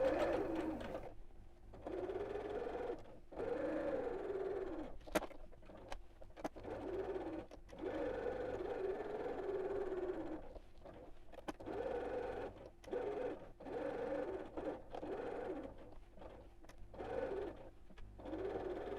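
A home sewing machine stitches across fabric for a scallop-topped gift bag, a steady mechanical whirr running in bursts with brief pauses as the stitching stops and starts, close and moderately loud.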